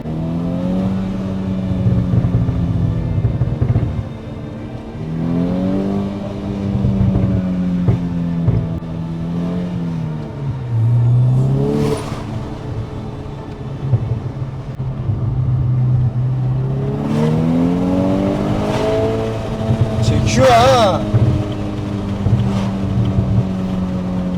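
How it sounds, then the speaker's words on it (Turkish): A VW Scirocco R's exhaust revs repeatedly, its engine note climbing and falling in a steady, loud, continuous drone for about 24 seconds. "Şimdi bizim egzozumuz bir de çatara patara doğru mu?"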